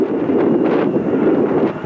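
Steady wind buffeting a microphone outdoors at an airport, a continuous low rumbling roar that fills the whole clip with no breaks.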